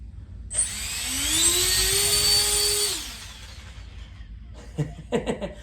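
A 64mm EDF ducted fan on an RC jet car at low throttle spools up into a loud whine with a rising tone, holds for a couple of seconds, then winds down. Faint clicks follow near the end.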